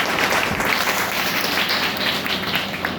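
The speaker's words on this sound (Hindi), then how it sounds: "एक बार जोरदार ताली होनी चाहिए।" Audience applause at a business plan presentation seminar: dense, steady clapping from a crowd filling the whole stretch, fairly loud and even, with no talk over it.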